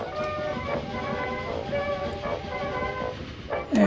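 A train running on rails in the game Train Fever, a steady rumbling roll with faint tonal squeals and a rising screech near the end, fairly close and unbroken throughout.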